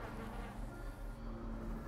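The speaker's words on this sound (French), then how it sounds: "avec des petits bruits de moustiques" Small mosquitoes whine in a long dark dungeon corridor in Darkest Dungeon, a steady low droning hum with a thin buzzing layer that holds evenly throughout, no voices over it.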